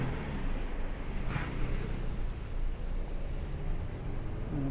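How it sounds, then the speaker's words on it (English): Road traffic on 85th Street in Brooklyn, on a January walk, makes a faint, continuous rumbling wash of distant cars with no single vehicle standing out. "All this traffic."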